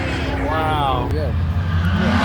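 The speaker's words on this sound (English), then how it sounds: "It's Corvette. It's gonna be loud." A Chevrolet Corvette engine revs at a car show, a loud close roar that climbs in pitch and holds, with crowd voices and talking mixed in.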